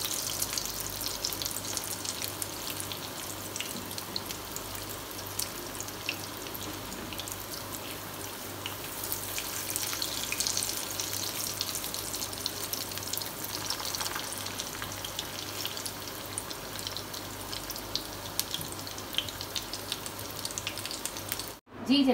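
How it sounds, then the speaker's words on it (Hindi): Beef shami kebabs fry in a pan, producing a steady crackling sizzle with small pops and spatters that carries on at an even level throughout. "अब हम इनको फ्राई करते हैं"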